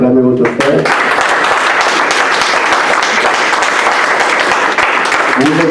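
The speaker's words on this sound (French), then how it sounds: "Vous acclamez votre frère." A church congregation applauds loudly and steadily for several seconds, with a brief voice at the start and again as the clapping ends.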